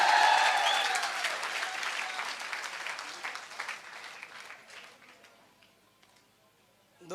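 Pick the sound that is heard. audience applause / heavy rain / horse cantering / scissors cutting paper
audience applause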